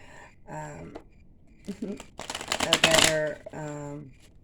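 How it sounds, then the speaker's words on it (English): A dense burst of rapid tarot card riffling, close up, with a person talking before and after it. "These cards are so hard to shuffle."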